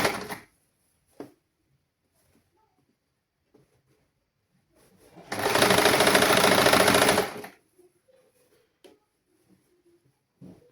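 Sewing machine stitching around the edge of fabric in a basic tailoring lesson, one sustained burst of fast, loud mechanical whirring lasting about two seconds, framed by quiet handling clicks before and after.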